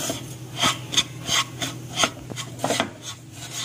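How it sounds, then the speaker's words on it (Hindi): Semolina roasting in ghee for sheera, stirred steadily with a spatula that scrapes the pan in a run of soft, rhythmic rasping strokes, close and fairly quiet with no talk. "इसको इस तरह अच्छे से भून लेंगे"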